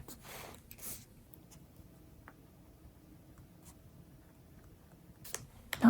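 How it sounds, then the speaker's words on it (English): A pen writes headers in a Hobonichi Cousin planner, with faint, close scratching strokes coming in short bursts and pauses, plus occasional soft taps and paper rustles in a quiet room. "I'm gonna write the headers"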